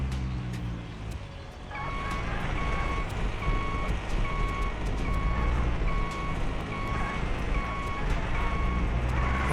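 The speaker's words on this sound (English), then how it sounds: "Why does this truck sound like it's misfiring when you reverse it?" Steady reversing beeper pulses repeatedly over a rumbling, uneven truck engine in Used Cars Simulator, the truck misfiring as it backs up; loud and continuous, with no talk.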